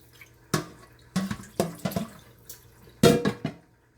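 Food gets rinsed under a kitchen tap in intermittent bursts, several splashy gushes of running water a few seconds apart with quiet gaps between, close and clear with no talking.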